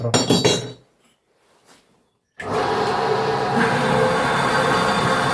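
A band saw cuts through 40x20 mm steel pipe with a 2 mm wall. A brief clatter gives way to near silence, then a sudden loud, continuous grinding screech of blade on metal.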